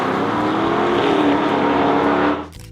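A 1970 Pontiac GTO Judge with the Ram Air 4 engine, a loud, dense, close V8 roar held steady at high revs before cutting off abruptly near the end.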